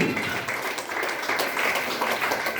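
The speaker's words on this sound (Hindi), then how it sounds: "इसके लिए जोरदार ताली होनी चाहिए, जोरदार ताली।" A crowd at a gathering breaks into loud applause, a dense, uneven clatter of many hands that swells and dips for a couple of seconds with no voices.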